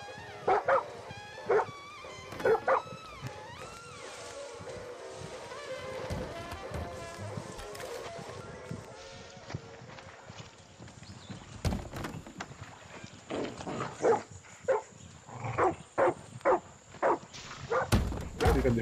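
In Far Cry 6, a dog barks in scattered bursts that cluster toward the end, over a busy game soundscape of hoof-like clopping, rustles and ambient tones at moderate loudness.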